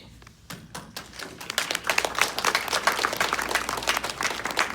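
Applause at a naturalization ceremony as new citizens rise for their country of nationality, a crowd clapping with scattered claps at first that swell into a steady, fairly loud patter.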